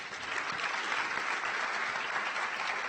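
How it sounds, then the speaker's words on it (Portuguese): An audience at an architects' conference panel claps continuously, an even wash of applause from the crowd, fairly distant and steady from start to finish. "salva de palmas"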